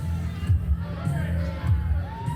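Spectators at a tag-team wrestling match cheer and holler for wrestler Billy Blaze, a loud, steady crowd roar with rising shouts, heard under commentators talking.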